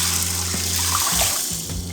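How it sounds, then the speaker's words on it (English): A strong stream of tap water runs into a pot of red beans for anko, a loud, close, continuous rushing splash with a low hum underneath and no talking. "pour water in."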